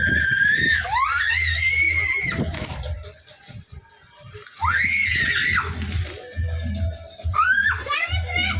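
A boy's high-pitched shouts and squeals come in loud bursts, close by, while kites are flown in a village, with a low engine-like hum and other voices in the background.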